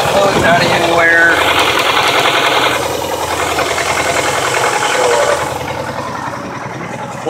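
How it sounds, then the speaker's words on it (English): A 1962 International Scout 4x4 pickup with an original stock engine runs after a cold start, settling into a steady mid-pitched idle that is loud and close and alone, with no talk. "once the motor's running, just warming up right now"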